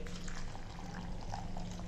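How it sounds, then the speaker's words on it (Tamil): Water poured into a bowl holding 100 grams of rolled oats, a continuous splashing and trickling pour at close range with no speech. "இப்போ இதில் தண்ணி ஊற்றி"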